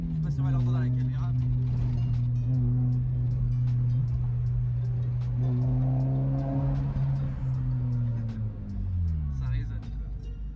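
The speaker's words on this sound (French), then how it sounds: "Là sous le pont, tu vas avoir le bruit." A Mazda MX5 Miata's exhaust drones loudly and steadily as it booms and resonates beneath a bridge, its pitch sagging near the end; a voice talks over it.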